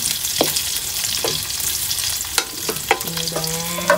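Fresh miki noodles and toppings sizzle in a hot pan, a loud, continuous frying hiss broken by a few scrapes and clinks of stirring, close up with no talking.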